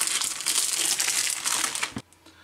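Plastic bags holding Border Models 1/32 Avro Lancaster kit sprues being cut and torn open, close crinkling and crackling rustles for two seconds, then a quick fade to near quiet.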